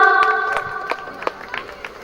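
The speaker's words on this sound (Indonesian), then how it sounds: "Beri tepuk tangannya dong." Scattered clapping from an audience at the Kendal Novel Award 2022 ceremony, brief and uneven, mixed with a sustained tonal chord fading out and a little crowd noise.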